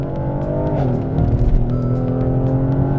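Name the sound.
AMG car engine accelerating loudly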